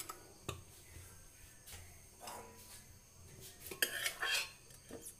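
Chicken stew being ladled into a serving bowl, with quiet clinks of a metal ladle against the pot and dish, a few scattered taps, then a brighter cluster of scraping and clinks near the end, with no talk.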